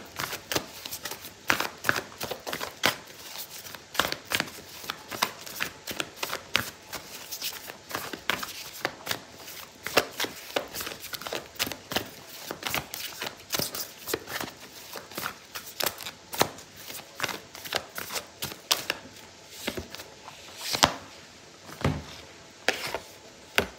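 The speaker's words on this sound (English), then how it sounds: "I'm going to pull out an oracle card for you" Oracle cards being shuffled by hand in a quiet room, a long run of quick, crisp riffling flicks and soft papery slaps repeating close up, with no talk over it.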